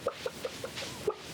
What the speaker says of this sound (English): All the hens clucking.